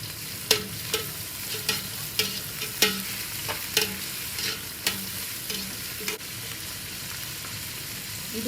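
Sliced onions sautéing in oil in a pan, an even sizzle broken by repeated sharp ladle taps and scrapes at a loose rhythm, close up with no voices.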